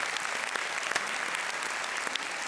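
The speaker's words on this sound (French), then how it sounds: "Ça on applaudit" Studio audience applauding during a French comedy talk show, a brisk steady patter of many hands with a few sharper claps standing out, no voices over it.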